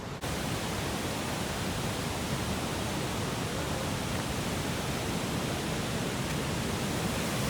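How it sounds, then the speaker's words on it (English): A roaring waterfall, the widest in the world, at 4000 Islands in Laos. It makes a loud, constant rush of falling water that fills the whole clip without a break. "we made it to like the big area where the main waterfall is. And it is, it's going to get really loud just now"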